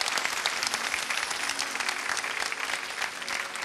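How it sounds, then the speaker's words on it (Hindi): Dense audience applause welcoming a qawwali performer on stage at a live televised show, a sustained, even roar of many hands clapping without pause. "जोरदार तालियों के साथ खास आपका इस्तकबाल कीजिए।"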